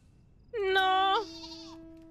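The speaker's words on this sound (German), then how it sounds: "Oh mein Gott, Mama Schaf und Baby Schaf." A sheep in the video game Final Fantasy 14 lets out a single loud, close bleat lasting under a second, followed by a fainter trailing tone, with no one speaking.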